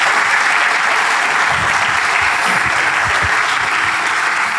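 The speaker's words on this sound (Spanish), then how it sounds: "Dale un aplauso al Señor por eso." Steady, dense applause from a church congregation, many hands clapping together at close range for several seconds with no break and faint crowd murmur underneath.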